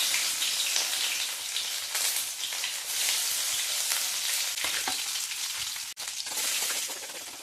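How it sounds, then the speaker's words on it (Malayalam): Garlic and shallots fry in hot oil with a dense, continuous crackling sizzle like rain on a surface, close and unbroken apart from a brief dip near the end. "പിന്നെ നമുക്ക് വെളുത്തുള്ളി ഇട്ട് കൊടുക്കാം കേട്ടോ അതിൻ്റെ കൂടെ തന്നെ നമ്മൾ കൊച്ചുള്ളി ഇട്ടിട്ട് ഒന്ന് വഴറ്റിയെടുക്കാം കേട്ടോ"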